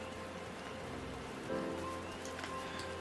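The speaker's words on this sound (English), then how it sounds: "It's been raining for a long time too in Gridania." Rain in Gridania in the video game Final Fantasy XIV falls as a quiet, steady patter of drops with a soft ambient hum beneath, and no voices.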